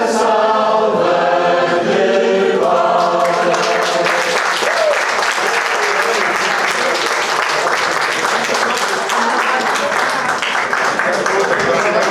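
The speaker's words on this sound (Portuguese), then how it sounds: "salva de palmas" A large crowd breaks into loud, sustained applause at a centenary celebration of the Portuguese Evangelical Alliance, following sung or spoken voices, with the clapping filling the rest of the clip.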